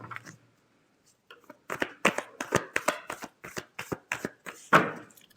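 Tarot cards shuffled by hand in a quick run of crisp riffling flicks and slaps after a short pause, close and fairly loud, with no talking over it.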